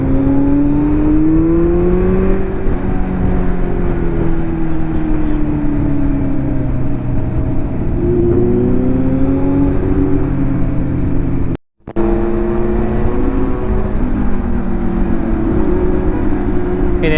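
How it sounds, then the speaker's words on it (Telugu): A Benelli SRK 400 RR motorcycle fitted with an aftermarket exhaust drones loudly and continuously, its engine note rising and falling through revs as it rides, with a momentary cut near the end. "ఇది ఎస్ఆర్కే 400 ఉంది కదా, ఎస్ఆర్కే 400 ఆర్ఆర్. దీనికి ఎగ్జాస్ట్ ఏసీ ప్రాజెక్ట్ వేసిండు. సౌండ్ ఏనండి."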